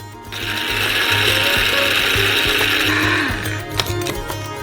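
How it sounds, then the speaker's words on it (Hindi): A coffee grinder pulverizes small cut pieces of dried vanilla into powder: a loud, steady whirring roar for about three seconds, then it winds down and a few light clatters and knocks follow. "उन्हें छोटे टुकड़ों में काटते हैं और इसे कॉफी ग्राइंडर में भेजेंगे।"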